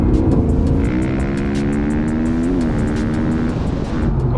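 A Mercedes-AMG GT engine revs hard while the car drifts, a loud, close, continuous roar with rising and falling pitch sweeps as the throttle is worked, without any talking.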